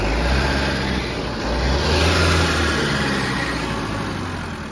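A Tata 909 BS3 truck's diesel engine revving steadily and loudly up close, with a heavy low rumble that swells to a peak midway and eases slightly toward the end, and no voices.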